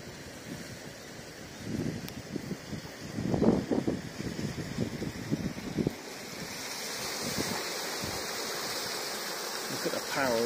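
The flooded River Thames roars steadily toward a weir at Whitchurch, with wind buffeting the microphone and some brief thumping handling noises; continuous and fairly distant.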